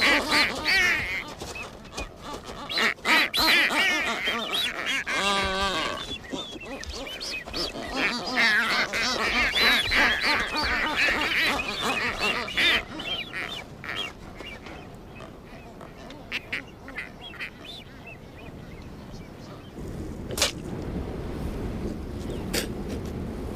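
Seabirds called boobies squawk and honk continuously at a breeding colony where marine iguanas shelter for the night, a dense chorus of harsh nasal calls near and far over a constant background bed.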